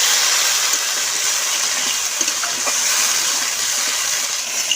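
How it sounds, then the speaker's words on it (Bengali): Water rinsed from whole spices — cinnamon, black and green cardamom — pours into a pot of mutton curry made with leg meat, a steady broadband gush lasting the whole stretch with a few faint splashy ticks. "দিয়ে দেবো মশলা ধোয়া জল"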